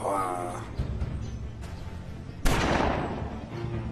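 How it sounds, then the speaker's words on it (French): Distant gunshots sound as a few soft pops followed by one louder, sharper shot that rings out and slowly decays. "Je vous dis que ce sont des coups de feu."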